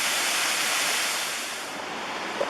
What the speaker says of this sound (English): It's a pretty waterfalls, but not really all that impressive on the side of this hill.